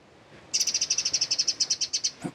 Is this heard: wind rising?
no